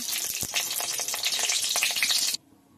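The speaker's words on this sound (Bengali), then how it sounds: "কড়াইতে তেল দিয়ে দিচ্ছি, শুকনো লঙ্কা দিয়ে দিচ্ছি, তেজপাতা দিয়ে দিচ্ছি," Dried red chillies and bay leaves frying in hot oil in a wok, a loud, dense crackling sizzle with sharp spits that stops abruptly near the end, leaving near silence.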